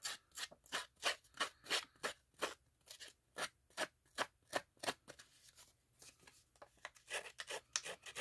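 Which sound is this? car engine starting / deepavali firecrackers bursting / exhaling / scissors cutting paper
scissors cutting paper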